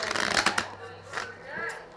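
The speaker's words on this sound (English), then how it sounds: "You shuffle the cards." A deck of playing cards for a Skip-Bo game is shuffled close by, giving a quick riffling flutter followed by a few softer shuffling rustles.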